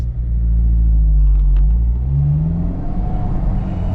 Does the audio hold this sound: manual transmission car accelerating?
yes